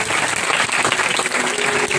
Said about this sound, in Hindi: आइए इस यीशु के लिए जोरदार तालीम दें